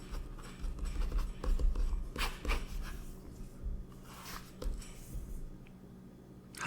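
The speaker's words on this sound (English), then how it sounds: "I'm going to write just big words." Pen scribbling big words on paper, close ASMR-style scratchy strokes in quick bursts with short pauses between words, soft and intimate, no talking.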